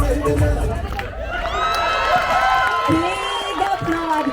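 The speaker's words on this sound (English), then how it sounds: "Big applaud." Audience at a wedding sangeet applauds and cheers, a loud crowd of clapping, whoops and babble with voices talking over it throughout.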